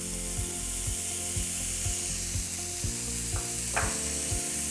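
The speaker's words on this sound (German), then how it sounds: "oder Speckwürfel und rösten die in einer Pfanne an" Bacon cubes and onions fry in a pan under a soft sizzle, accompanied by a regular mechanical ticking pulse and a couple of brief scrapes, with no voices.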